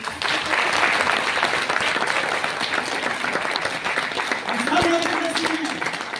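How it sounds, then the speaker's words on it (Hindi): An audience at a health talk claps loudly and steadily, with a brief voice rising over the sustained applause near the end. "एक बार जोरदार तालियां अपने लिए।"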